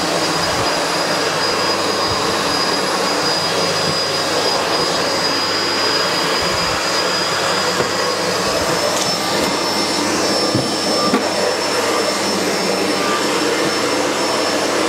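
A SEBO Felix upright vacuum cleaner runs continuously along the edge of a floor, a loud, steady motor whine with airflow hiss and occasional low bumps as it moves, no talking.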